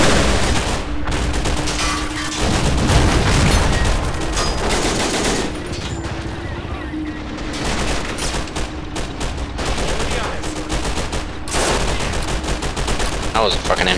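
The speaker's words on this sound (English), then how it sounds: "That was a fucking MG42 there." An MG42 machine gun fires in a war video game: long, rapid rattling bursts, loud and close, broken by brief pauses and mixed with other gunfire and explosions, with a little talk underneath.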